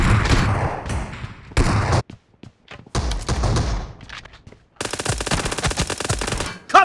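Bursts of automatic gunfire from PUBG Mobile in an arena gun-game match on the Hangar map, loud and close, broken by short pauses, with a long rapid burst near the end.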